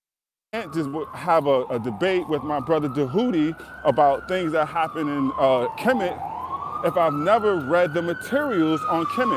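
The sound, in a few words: ambulance siren passing outside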